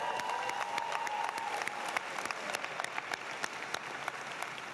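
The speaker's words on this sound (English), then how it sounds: "Clap it up." An audience at the GW School of Business 2022 undergraduate commencement applauds continuously, with crisp individual claps standing out from a dense, steady patter and a faint sustained tone near the start.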